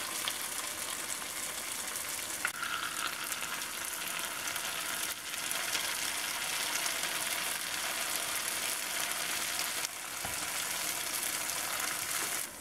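Churros sizzle and bubble steadily in hot canola oil, a dense, continuous frying hiss heard up close with no talking.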